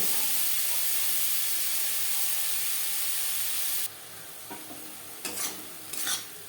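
Prawns coated in salt and turmeric fry in a pan with a steady, loud hiss of sizzling that drops to a quieter sizzle partway through, broken by a few clattering stirs.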